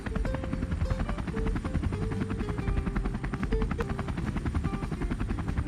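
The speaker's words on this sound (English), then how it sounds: "This is an Airbus H-145M helicopter." Steady, loud helicopter rotor chop with a continuous engine whine, a twin-engine Airbus H145M flying close by, no voices.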